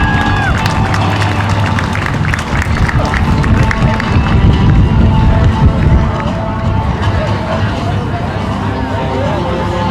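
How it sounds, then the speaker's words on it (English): A crowd at the 2015 Wings Over Whiteman air show applauds and cheers after a B-2A Spirit flyby. The sustained clapping and cheering mixes with crowd chatter and low background rumble. "But give Jeff Shetterly a big round of applause"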